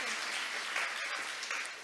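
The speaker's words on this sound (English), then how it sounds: "let's give her a round of applause before she parts" Audience at an international development conference applauds a departing presenter, a steady dense patter of many hands clapping at moderate distance, holding even for nearly two seconds with a slight fade at the end.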